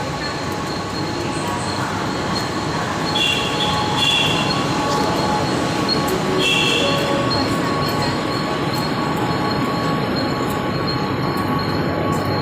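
A passenger train rolls along the rails with a loud, continuous rumble, wheels squealing in high drawn-out tones at intervals, close by and without talk.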